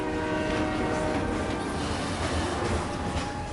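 Video game train at an undercity station, a steady rumbling rail roar with a sustained horn-like tone, moderately loud and continuous with no voices.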